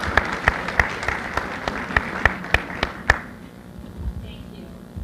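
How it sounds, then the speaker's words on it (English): Applause for a panel speaker at an engagement-marketing business event: about ten crisp, evenly spaced claps over three seconds, then fading into quiet room noise. "Another round of applause."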